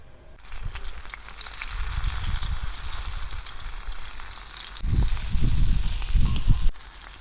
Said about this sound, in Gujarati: મરચાં બધા ભરાઈ ગયા છે તો આપણે હવે તળી નાખશું એને.